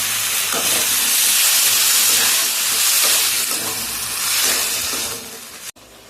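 Tomato paste dropped into a hot pan of fried dal boras and spicy potatoes, giving a loud, continuous close sizzle and hiss that fades slightly before a brief pause at the end.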